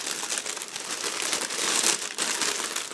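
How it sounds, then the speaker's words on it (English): Close crinkling and rustling of a plastic bag holding plastic model-kit sprues being handled, a brief, busy series of crackles with no talking. "Next we have plastic sprues packed into the plastic bag."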